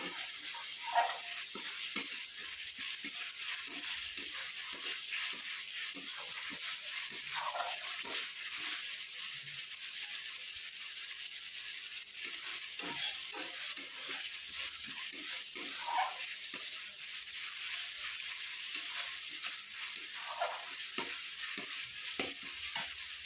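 Spice paste for aloo dum fries in oil with a splash of water, a long, faint, steady sizzle with occasional soft stirring scrapes and bubbling, no speech.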